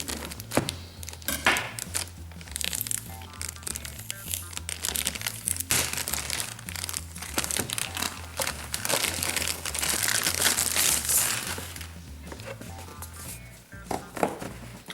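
A knife slices and tears through crinkly plastic packaging around a PS4 universal media remote, with dense, continuous crumpling and scraping up close, punctuated by brief crunches and tugs, no talk.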